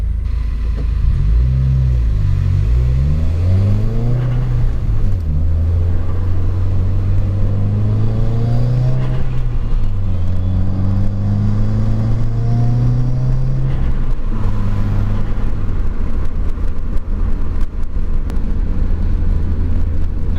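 A Stage 3 Subaru WRX running E85 flex fuel accelerates hard, the engine note climbing through several gear pulls with brief dips at shifts, loud and close from inside the car.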